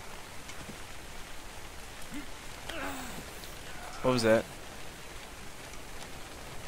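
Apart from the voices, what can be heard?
rain in video game ARK: Survival Evolved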